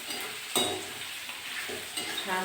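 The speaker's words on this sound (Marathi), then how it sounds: "धने 2 चमचे." Two spoons of coriander seeds fry with ginger in a pan for an onion-garlic masala, a soft sizzle broken by a few sharp stirring scrapes, close but fairly quiet, no voices.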